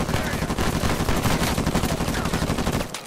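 Sustained gunfire in Uncharted 4 multiplayer, a dense unbroken barrage of rapid automatic shots that fills the whole stretch loudly and cuts off abruptly at the end.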